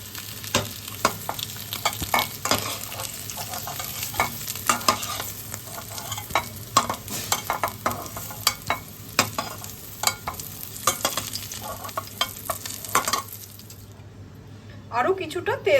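Potatoes for Odia aloo dum fry in oil while being stirred, a steady sizzle broken by frequent clattering scrapes and knocks of a utensil in the pan, which fade out near the end.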